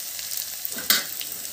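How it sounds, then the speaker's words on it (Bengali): Potatoes fry in a pan, a close, continuous crackling sizzle with a brief louder burst of spattering and stirring partway through. "আমি একটু নুন দিয়ে দেব আর দেব আমি সামান্য একটু হলুদ দিয়ে আলুগুলোকে আমি একটু ভেজে নেব"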